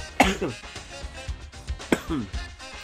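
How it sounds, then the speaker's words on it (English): Two sharp bursts of coughing and throat clearing about a second and a half apart, close and fairly loud, with faint room noise between them. "right off the bat, I'm coughing and choking already."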